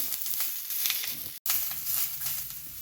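Onion, garlic, ginger and coriander sautéing in a pan, a steady close hiss with soft crackling, broken by a brief silent gap midway.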